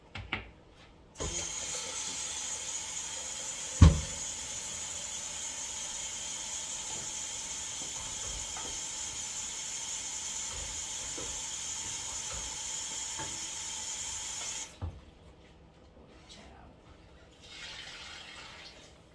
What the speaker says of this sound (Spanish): Vamos a agregar más agua.